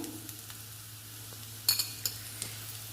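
Ivy gourd fry being stirred with chili powder in a pan: a quiet sizzle runs throughout, broken by a few sharp clinks of a spoon against the metal near the end, close and with no talking.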